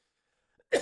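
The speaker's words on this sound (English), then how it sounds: "now you got to hear me cough" A man coughs once, a short loud burst near the end after near silence, preceded by a faint small throat sound.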